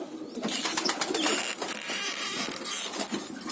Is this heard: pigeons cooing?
yes